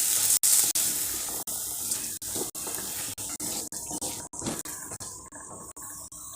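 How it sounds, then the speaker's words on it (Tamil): Water runs and splashes steadily as it is poured into a pan of cowpea pods for masala, with a few soft clicks and knocks around it. "போட்டுட்டு தண்ணி ஊற்றி நல்லா வேக வச்சுக்கலாம்"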